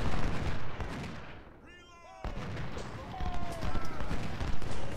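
Civil War troops fire their guns in the strategy video game Ultimate General: Civil War at the First Battle of Bull Run. Dense, rolling volleys crackle continuously beneath someone talking in German.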